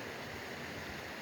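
Steady broadband rush of the Capulong Creek flowing beside a trail near Clinton, New Jersey, close and continuous with no voices.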